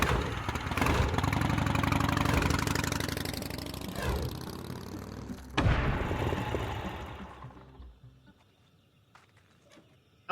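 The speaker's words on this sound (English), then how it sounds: "I wish I could hear that motorcycle sound a couple more times." A motorcycle engine idles in the video game Gabriel Knight 3, a close, steady rumbling putter that throbs evenly for several seconds, then after a brief knock fades away into near silence, with a sharp click at the very end.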